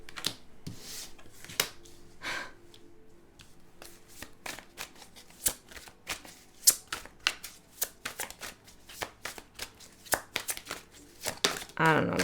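A deck of cards is shuffled and handled close up, giving a busy run of crisp riffles, flicks and snaps with a person talking underneath.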